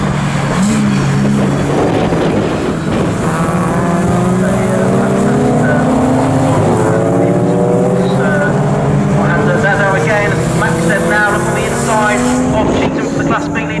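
A BMW and a Lodge sports car race side by side in a 750 Motor Club enduro at Snetterton, loud engines wailing and shifting pitch as they pass close by, under continuous commentary.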